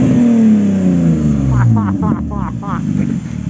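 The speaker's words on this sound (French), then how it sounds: "un petit coup de gaz là" A car engine blips its throttle up and settles back, the rev falling in pitch, followed by bursts of voices speaking close by.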